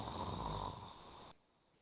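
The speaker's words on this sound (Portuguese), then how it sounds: "Essa vibração é a fonte do ruído que se ouve quando alguém está" A person snores with a steady, close, rough rumble that cuts off abruptly partway through, leaving faint quiet.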